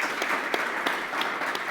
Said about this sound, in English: Round of applause for our speakers and for all of our speakers this week.